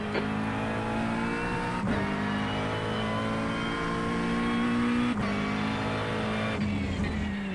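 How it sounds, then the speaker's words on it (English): An engine drones steadily in the iRacing racing game, with a constant high whine and rising harmonics, interrupted by a few sharp shift clicks as the pitch drops and climbs again. "There's a car approaching."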